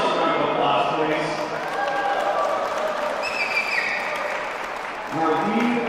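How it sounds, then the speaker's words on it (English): An audience applauds at a table tennis team championship in a large hall. The clapping is steady and fairly loud, mixed with crowd noise, and a voice talks over it throughout. "Give yourself a round of applause,"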